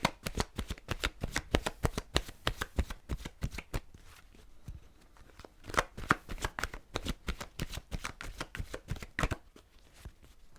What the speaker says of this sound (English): I'm just shuffling here until a card kind of calls to me